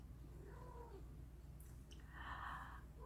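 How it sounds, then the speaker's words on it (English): A house cat meows faintly at night in a quiet room, a soft drawn-out cry rising over low steady background hum, fairly distant and alone. "My cat."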